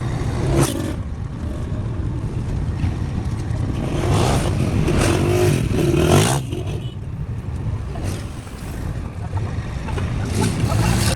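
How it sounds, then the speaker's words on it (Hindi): A car driving toward a hotel, heard from inside as a continuous rumbling road and engine drone with surging swells of noise, fairly loud and steady without talk. "गाड़ी में बैठ के अभी हम होटल की तरफ जा रहे हैं"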